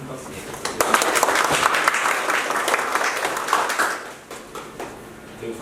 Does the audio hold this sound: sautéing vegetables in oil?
no